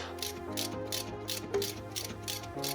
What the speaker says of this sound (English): To loosen the upper nut, we will place wrench 17mm behind the bar and socket 16mm directly on the nut.